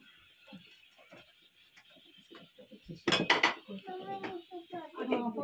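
Dirty dishes and cutlery clatter and clink while being handled, with a sharp cluster of metallic knocks midway and softer scraping around it, under a person talking.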